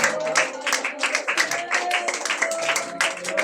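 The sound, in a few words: congregation clapping for the Lord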